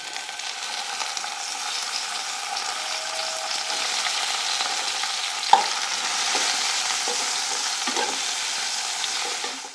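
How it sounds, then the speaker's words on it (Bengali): Onions frying in a little oil in a pan after lentil dumplings were fried, a steady close sizzle and crackle with occasional stirring clicks and one sharp utensil knock midway. "একটু তেল দিয়ে দিচ্ছি পেঁয়াজ দিচ্ছি"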